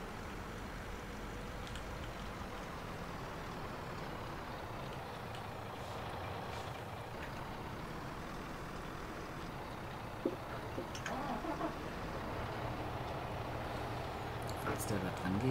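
Truck engine idling steadily in Farming Simulator 19 while shunting at a cellulose factory, a continuous low rumble throughout with a few faint reversing beeps and clicks toward the end.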